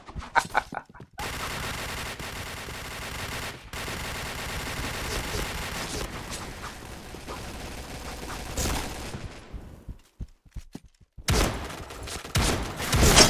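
A high-capacity shotgun fires in a video game, its dense, rapid blasts running nearly continuously for several seconds, then dropping out briefly before more bursts resume.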